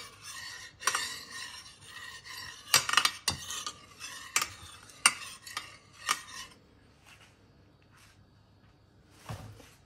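A spoon mixes a cream and tomato filling in a dish, a series of sharp scraping clinks and taps against the bowl, irregular and close, thinning out toward the end.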